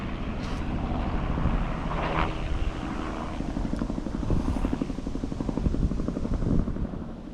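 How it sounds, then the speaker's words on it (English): FWPD AirOne police helicopter circling over a residential neighborhood while searching for a suspect, heard from a backyard as a steady, fairly close rotor and engine rumble throughout, with no talk. "while I was inside doing some editing, I heard helicopters"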